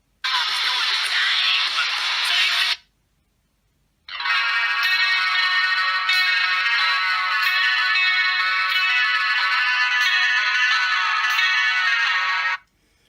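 Music in MP3 format plays through the small built-in speaker of a DZ09 smartwatch, loud and thin-sounding, stopping briefly around the third second before another track resumes and runs steadily to the end.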